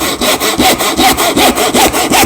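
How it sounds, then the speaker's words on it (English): A hand saw cuts the waste end off a wooden footstool part, making loud, close rasping strokes in a steady back-and-forth rhythm, about ten strokes in quick succession, with no talking. "That will allow us to cut off our end waist."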